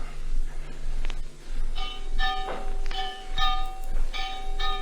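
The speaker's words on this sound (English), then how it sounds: "the incessant clanging of that church bell just outside my window" A church bell clangs just outside a window as a radio drama effect, with several ringing strikes at uneven intervals over a steady background hum, moderately loud and close.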